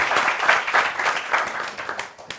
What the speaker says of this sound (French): Applaudissements pour son vêtement.